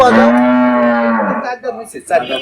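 A Jersey dairy cow that has just calved moos once on a dairy farm, a long, loud, drawn-out low call that tapers off, followed by a few softer rustling and shuffling sounds nearby.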